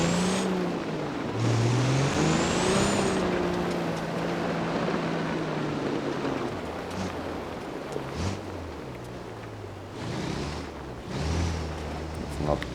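An Autobello Stambecco engine drives off-road in BeamNG.drive, revving and shifting through changing pitches, steady and fairly loud throughout, with a few brief rises.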